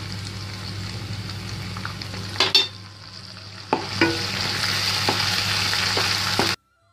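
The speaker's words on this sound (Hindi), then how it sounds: "अच्छे से मिक्स करेंगे।" Oyster, soy and Worcestershire sauces with oil sizzle loudly in a pan while a utensil stirs and scrapes them in a few sharp bursts, then the sound cuts off abruptly.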